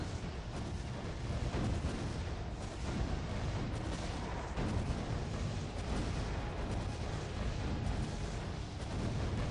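Cannons firing in the tower defense game Defense Grid: The Awakening, Containment map in Grinder mode, a dense and continuous wash of booming artillery-like blasts that stays loud and steady, with no talk over it.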